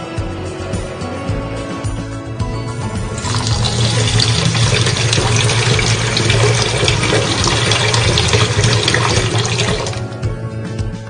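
Water pours steadily into a pot of Gobindobhog rice and mung dal for khichuri, a loud continuous splashing rush that swells after a few seconds and runs for several more before easing off, with no talking.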